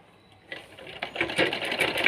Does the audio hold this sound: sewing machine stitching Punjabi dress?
yes